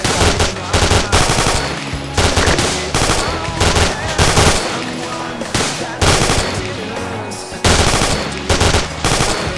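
Machine gun fire in the military shooter ArmA 2 during an assault on Feruz Abad, with rapid, loud automatic bursts that repeat almost continuously, layered with heavy reports and battle noise.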